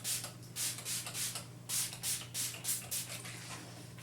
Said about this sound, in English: I'm spraying it on my root area.